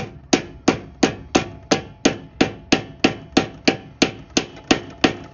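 An axle seal is hammered into place on a Sears GT garden tractor with about fourteen evenly spaced, sharp metallic blows. The strikes are close and loud, with nothing else heard.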